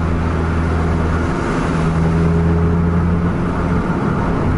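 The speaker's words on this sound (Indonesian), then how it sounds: "padat suara mesinnya." A PMTOH bus engine drones in a dense, steady roar as the bus accelerates along the road, with a constant low rumble and a rising tone heard continuously from on board.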